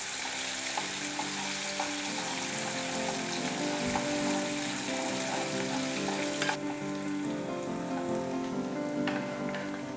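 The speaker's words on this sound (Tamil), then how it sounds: "ஒரு 1/2 minute பூண்டு நல்லா வதக்கிட்டு" Steady, loud sizzling of garlic sautéing in a hot pan, continuous throughout with faint scraping and stirring; no speech.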